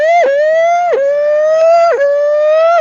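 A person's voice imitates an IndyCar racing car, a loud, high, buzzy whine that climbs and dips in repeated gear-shift sweeps, like an engine revving past.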